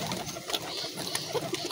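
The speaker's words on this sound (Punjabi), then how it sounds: "ਆ ਲੈ ਆਹ ਫੈਂਸੀ ਵੀ ਕਬੂਤਰ ਆਪਣੇ ਕੋਲ ਆ ਗਿਆ" A fancy pigeon coos softly and briefly at close range against a faint, hissy background.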